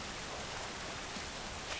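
Steady, dense rain hiss fills the whole stretch in the video game The Last of Us, an even wash of falling drops with no voices over it.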